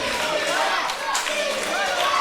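Wrestling crowd at a UK Pro Wrestling match cheering and rallying behind Joe Lando, a steady dense roar of voices filling the hall with scattered shouts throughout.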